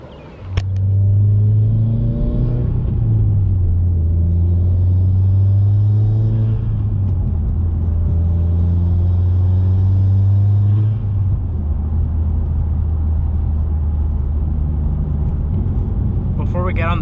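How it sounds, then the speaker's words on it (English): A Subaru WRX with a stage 2 tune cruises along a back road, its engine a steady, loud low drone heard from inside the car, rising and falling in pitch through several shifts and throttle changes. "go on a nice back road and enjoy how nice the car drives"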